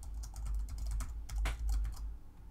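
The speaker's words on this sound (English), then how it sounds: "I might have typed the password wrong." Rapid clicking of a computer keyboard as a password is entered, a steady run of close keystrokes with a brief flurry of louder taps midway, no voices.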